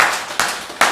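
A church congregation claps together in three sharp, evenly spaced bursts of many hands, loud and close with a brief ring between claps.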